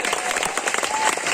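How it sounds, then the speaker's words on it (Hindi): Crowd at a bicycle distribution event clapping to welcome a speaker, brisk scattered applause with some voices mixed in, moderately loud and brief. "जोरदार ताली से स्वागत कर देवे।"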